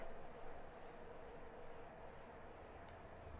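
A High Speed Train passes in a train simulator game on the Riviera Line, a faint, steady rumble of wheels on rails with a soft rushing hiss and no talking.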